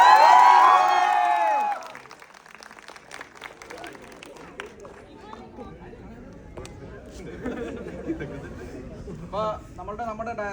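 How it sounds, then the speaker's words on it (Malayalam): An audience bursts into loud clapping and shouts for under two seconds, then quickly fades into a low murmur of crowd chatter and scattered voices. "എല്ലാവരും നല്ലൊരു കൈയടി ഉണ്ട്."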